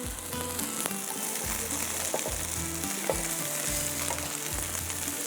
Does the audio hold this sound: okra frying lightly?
yes